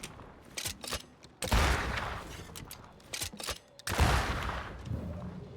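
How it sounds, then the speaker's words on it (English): Gunfire bursts in the video game Banishers: Ghosts of New Eden, two loud sustained volleys separated by short sharp shots, close and booming, with no speech over them. "A lot of bullets wasted."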